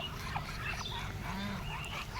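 Old domestic ducks, a drake and hens, call on a farm with a few short, nasal honking quacks heard fairly close against a quiet background.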